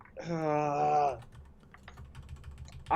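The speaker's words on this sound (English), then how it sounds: "I literally typed exactly what Kevin said" Rapid keystrokes on a computer keyboard click and tap irregularly at close range after a short sustained tonal sound, with soft clatter continuing to the end.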